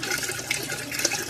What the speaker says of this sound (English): you can see how clear it is coming out of this bad filter